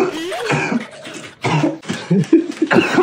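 Several harsh coughs and throat-clearing bursts come in quick, uneven succession, close and fairly loud.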